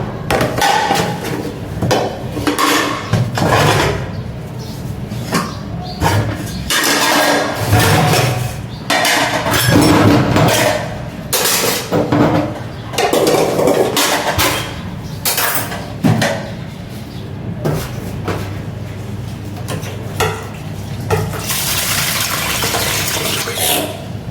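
A dish rack holding washed plates and pots is shifted about, with repeated clattering, clinking knocks and scrapes in irregular bursts throughout. The sound is close and fairly loud, with no talking.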